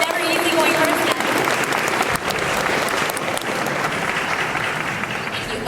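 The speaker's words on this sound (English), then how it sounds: "Can we give another round of applause for Ryan Austin?" Dense, steady audience applause for a singer at an anime idol singing contest, loud and sustained throughout with scattered cheers, no pauses.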